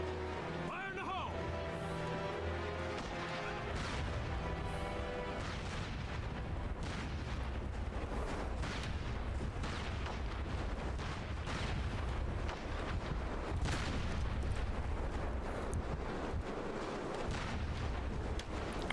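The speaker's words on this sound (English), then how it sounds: "Grenade! Fire in the hole! Outgoing!" Grenade explosions and gunfire in the online shooter SOCOM Combined Assault, a run of sharp booming blasts and bursts over a busy game soundscape, with players talking over the action.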